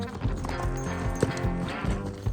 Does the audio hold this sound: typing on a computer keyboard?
no